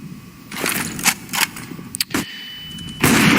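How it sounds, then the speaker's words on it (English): Gunfire in Counter-Strike: Global Offensive during a professional esports match on the Overpass map: a few sharp cracks and shots in quick succession amid in-game clatter, loud and close. "Good shot from Guardian"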